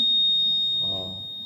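A homemade rain alarm's buzzer sounds a steady, piercing high electronic tone that cuts off partway through, followed by a brief low rustle or voice-like murmur underneath.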